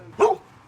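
A single short, sharp dog bark at moderate distance, alone against quiet background noise, heard while canvassing door to door in the United States.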